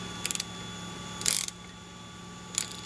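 Socket wrench tightening a damper cap, giving a few brief ratcheting clicks in short bursts, close and fairly quiet, separated by pauses against a faint steady hum.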